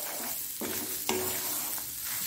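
Grated coconut with a little turmeric is heated and stirred in a pan, giving a soft, steady hiss with a few scraping strokes of a spoon against the metal, close and fairly quiet, without talk.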